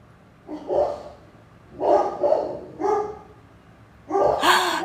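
A dog barks several times at close range, in separate bursts with short pauses between them, loud and alone without talk.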